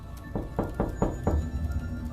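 Four evenly spaced knocks on a door in a hostel room, moderately loud and close, with a short pause before the last one, against a low background hum and no speech.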